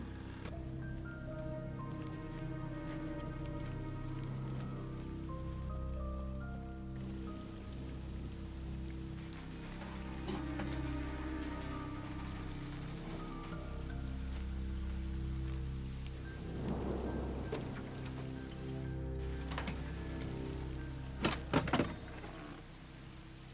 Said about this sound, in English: you can hear the rain hitting the metal on the car